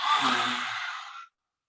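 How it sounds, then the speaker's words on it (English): A single forceful lion's-breath exhale in a yoga session, breath pushed out with the tongue extended as an airy, breathy rush that tapers over about a second and ends in silence. "Deep breath in through the nose. Stick out the tongue, lion's roar."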